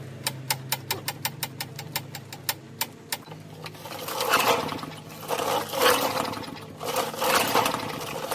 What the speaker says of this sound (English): Wide open throttle, but it's running.